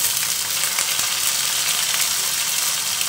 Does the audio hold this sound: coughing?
no